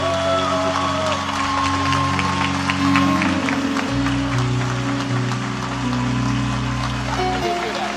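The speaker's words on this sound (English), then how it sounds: "Mesdames et messieurs, je vous demande d'applaudir très très fort Vanessa Benjamin, Madame Michael Benjamin" Audience applauding at a funeral gathering, a dense wash of clapping that continues under sustained music with steady low tones.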